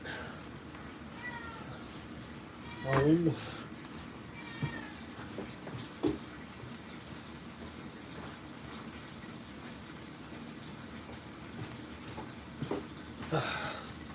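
A house cat meows a few times, a short close call near the start followed by faint scattered sounds and light movement over steady background noise in a home kitchen.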